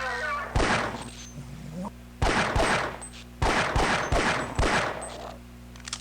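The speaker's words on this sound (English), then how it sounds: "we'll have to use the pistol on him around the corner" Pistol fire in the game Half-Life: Opposing Force, five or six loud sharp gunshots in irregular bursts, each with a brief echoing tail, close and dominant over a low game hum.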